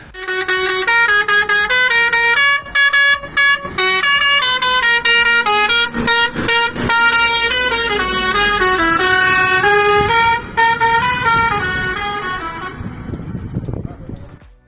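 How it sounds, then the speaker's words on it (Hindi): A loud musical vehicle horn plays a melodic tune of stacked tones, rising and falling continuously for about fourteen seconds on a mountain road trip toward Shiv Gali, with temple surroundings, and brief clicks and background noise underneath. "एक बार और हॉर्न हो जाए प्लीज।"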